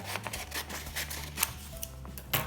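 Scissors snip through a paper activity sheet in a few short, close cuts with light rustling between them, the sound fairly quiet throughout.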